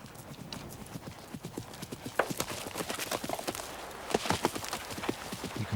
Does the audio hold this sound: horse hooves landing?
yes